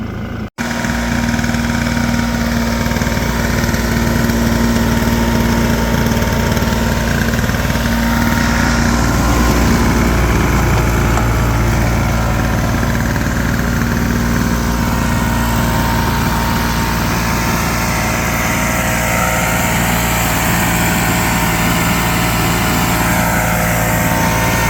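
1960s Vespa scooter engine, a barn find revived after 52 years sitting and running without a working throttle, idling in a loud, steady, close two-stroke drone that continues unbroken for the full length.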